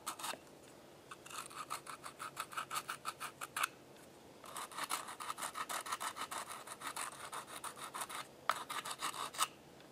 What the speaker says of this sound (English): I'd still use the sander to get off, you know, make it a lot smoother so I can actually eat with it.